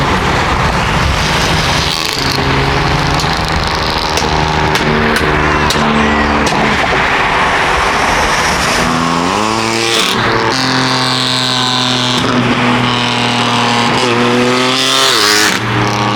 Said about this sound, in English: It's probably the loudest F80 I've ever heard. But it's definitely straight pipe.